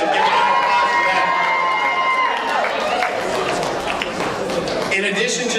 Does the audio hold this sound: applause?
yes